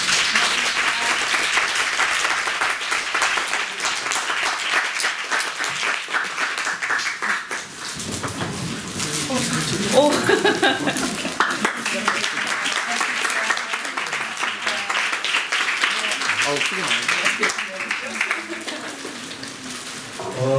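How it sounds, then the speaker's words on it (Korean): A long, steady round of audience applause at a talk at Boston University, dense clapping from many hands that swells and holds throughout, with some voices mixed in. "다시 한번 큰 박수 부탁드립니다."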